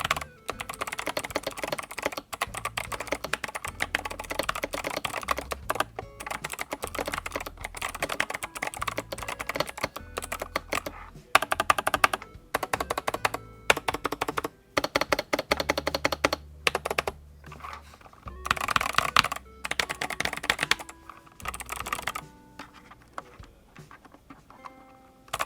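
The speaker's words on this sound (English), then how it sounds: "I guess we'll just go ahead and head into a typing test." Rapid, uneven clicking of keystrokes on an 8BitDo retro-style mechanical keyboard during a typing test, close and crisp, with short pauses between bursts and no talking.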